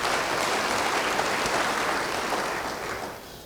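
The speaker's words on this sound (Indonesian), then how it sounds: "Yang mau beri tepuk tangan bagi dia." Church congregation applauding during a pastor's sermon, a steady wash of clapping from many hands that holds evenly, then thins and fades toward the end.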